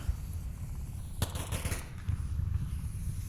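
Gunfire in the VR shooter Onward during a competitive match, a short burst of sharp distant shots cracking over a steady background rumble.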